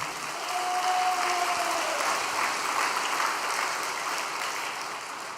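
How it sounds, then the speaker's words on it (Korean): An audience at an all-night prayer gathering applauds in thanks, a broad, even clatter of many hands that holds steady at moderate loudness throughout. "다시 한번 참부모님께 감사의 박수를 올려주시기 바랍니다"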